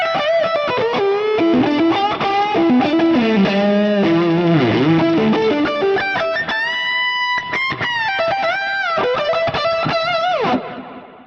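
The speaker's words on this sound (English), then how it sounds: "So these delays quicken up a good bit, and now we have a great lift to our lead." An electric guitar plays a fast, distorted lead through a Fractal effects unit, its notes trailed by quick tempo delay repeats and reverb, loud and alone before cutting off near the end.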